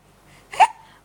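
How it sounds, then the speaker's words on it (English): One abrupt hiccup pops out near the middle, close and fairly loud, against a quiet background with no talking. "Someone has hiccups."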